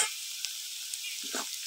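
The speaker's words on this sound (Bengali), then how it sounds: "এবার মশলাটাকে ভালো করে কষিয়ে নেব" Spice paste of fried onion, ginger paste, turmeric and chili powder sizzles in a pan over a clay stove as it is stirred, a close hiss with a brief stirring scrape near the end, no voices.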